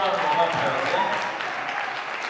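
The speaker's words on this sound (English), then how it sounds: "Let's give Susie a better round of applause" Audience applause at a listeners' party for an album, a steady wash of clapping that holds fairly loud through the whole stretch, with voices mixed in.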